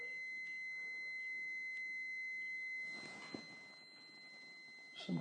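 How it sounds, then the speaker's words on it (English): A house alarm sounds with a steady high electronic tone and a few faint beeps, continuous and thin in the background, with small knocks near the end. "Some kind of alarm going off in my house."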